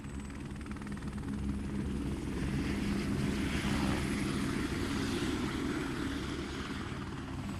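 Military helicopters fly in the Vietnam evacuation near the US embassy, their rotors and engines making a loud, steady, thick drone that swells slightly in the middle, with no voices.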